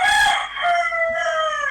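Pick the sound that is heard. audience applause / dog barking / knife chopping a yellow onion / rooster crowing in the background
rooster crowing in the background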